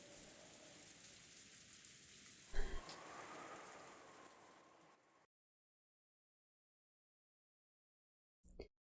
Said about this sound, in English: the sound of the wind and rain began to fill the room bit by bit.